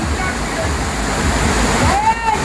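Constant broadband rush of a waterfall at Beloshi village, Alibag taluka, heavy and continuous, with a voice speaking briefly over it near the end.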